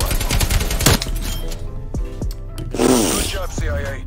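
Loud video game gunfire rattles in fast bursts with scattered single shots, and a player's voice talks over the shooting.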